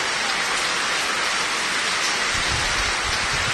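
Heavy rain pours down in Abohar, a dense, steady hiss with no break, loud and close, with a low rumble swelling near the end.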